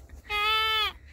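A single goat bleat, a clear wavering cry lasting about half a second, close and loud over a quiet background with faint voices.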